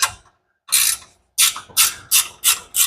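Ratcheting on a V-band clamp of a turbocharged Mustang's 3D printed intake elbow, heard as a short burst, a pause, then a run of about five quick, evenly spaced close raspy clicks.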